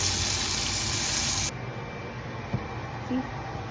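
Liquid gushes loudly for a moment and then stops abruptly, leaving a quieter room with a couple of small clinks.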